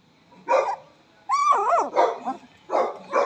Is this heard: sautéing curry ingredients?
no